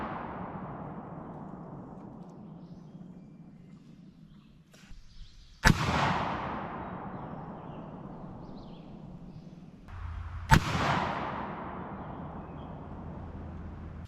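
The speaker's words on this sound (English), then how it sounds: "We'll fire 3 rounds at the 50 yard and see what the Hornady ammo can do at that range" Two loud 12 gauge shotgun blasts firing Hornady Foster slugs at an outdoor range, spaced about five seconds apart, each a sharp crack trailing into a long rolling echo.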